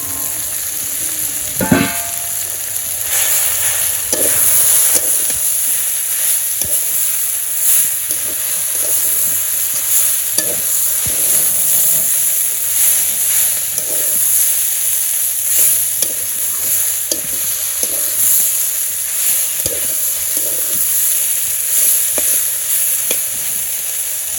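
Fish frying in a pan of oil in a home kitchen, a steady crackling sizzle with sharp pops and occasional stirring clatter running throughout, fairly close and loud, with no talking.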